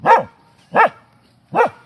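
A dog barks three times at an even pace, each sharp bark close and loud, separated by short quiet gaps.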